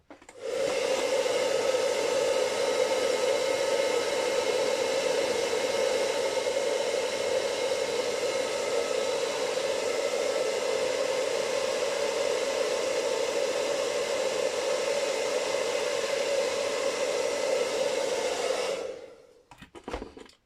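A Babyliss hair dryer blows steadily for about 19 seconds while warming the chassis of a HobbyKing Sabertooth RC car, a loud, even whirring rush of air that cuts off near the end.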